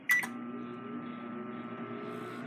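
Microwave oven started on its popcorn setting: a quick pair of button beeps, then a steady low electric hum that runs on evenly at close range.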